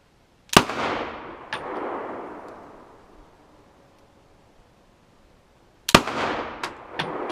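A Tokarev pistol firing 7.62mm bottleneck cartridges outdoors: a sharp, loud report with a long echoing decay, a fainter second shot, then a pause and another close crack followed by a few smaller metallic clicks.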